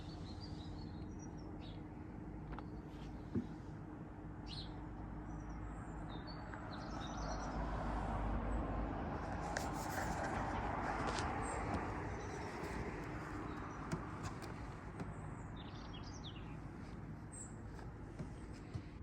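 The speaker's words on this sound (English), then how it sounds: "That's the sounds of my garden, some bird noise and some road traffic." Quiet garden ambience: scattered bird chirps and calls over a low, continuous rumble of distant road traffic that swells briefly in the middle, all faint and without talk.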